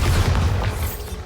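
A Bombarda spell going off in Hogwarts Legacy, a loud, booming explosive burst with a deep rumble that fades over about a second.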